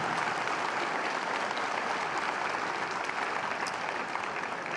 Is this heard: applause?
yes